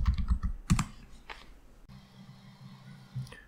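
Quiet keystrokes on a computer keyboard as a terminal command is typed, a short burst of clicks at first and then a few scattered taps, close and soft with no speech.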